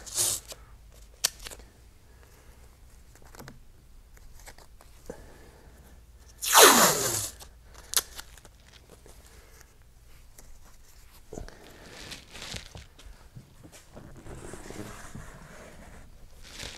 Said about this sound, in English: I'm just grabbing some tape, and I'm going to tape this window up here